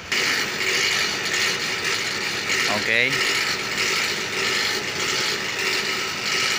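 Short ratcheting clicks from a hand ratchet while removing the blower of a car air-conditioning unit, a brief burst of quick clicks midway against steady workshop noise, with a single spoken word.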